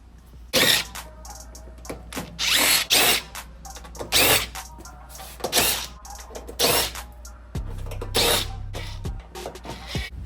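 An electric drill with a Robertson bit whirs in short repeated bursts, about ten quick spins with pauses between, close by and loud, as screws are backed out of a Frigidaire oven.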